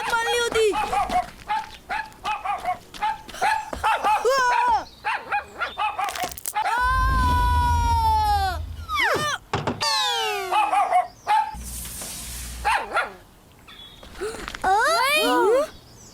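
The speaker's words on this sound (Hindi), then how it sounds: "ये कुत्ता तो मेरे पीछे ही लग गया।" Cartoon dog in a 3D animated series barking and yelping in a chase, with several sharp bark bursts and pitch-sliding cartoon effects mixed among lively speech and running sounds.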